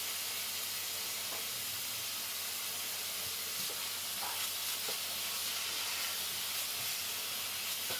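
Beef mince browning in a pan of soffritto for a spaghetti ragu gives a steady, loud sizzle and hiss with occasional soft stirring scrapes, constant throughout.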